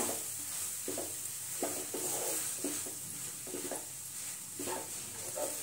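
Milk powder roasts and is stirred in a pan for paneer modak, giving soft rhythmic scraping strokes over a faint sizzle, fairly quiet and close, with no talk.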